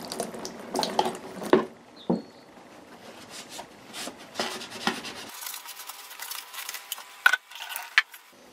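Running tap water rinses acid off a small airgun part over a sink, a steady wash of splashing water with a few louder clattering knocks, before the flow cuts and only faint drips remain.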